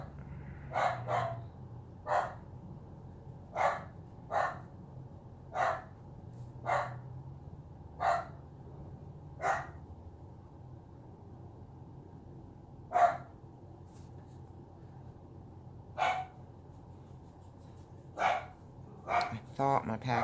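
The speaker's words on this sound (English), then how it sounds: "I must have a package because Bradley's barking" A dog barks in single sharp yaps, repeated steadily about every second or so, with pauses, clear over a low background hum.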